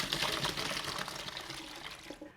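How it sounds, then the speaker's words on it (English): Cooked gnocchi and water pour into a colander with a steady, close splashing rush that eases off toward the end of the brief clip. "I'm going to strain my gnocchi into a colander."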